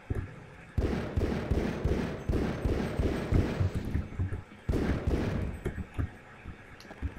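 Gunfire from the Half-Life 2 video game, a long loud barrage of rapid repeated shots with a brief pause midway before the firing resumes and tapers into scattered bursts.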